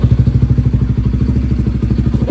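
A Honda Winner X 150 motorcycle on a test ride after a chain adjustment, its engine thumping in a fast, even rhythm with a loose chain clattering underneath, loud and close.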